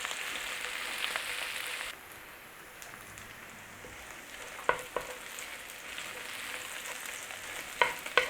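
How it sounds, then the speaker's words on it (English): Onions sizzle and crackle in hot oil with a continuous frying hiss, punctuated by occasional sharper pops and stirring clinks, with no voices. "The oil's taken over and it's doing the frying."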